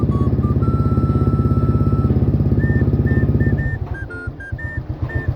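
A motorcycle with a tight front wheel, waiting for repair, idles with a steady, throbbing low pulse. Thin whistling tones float above it, then the engine note roughens and turns choppy near the end.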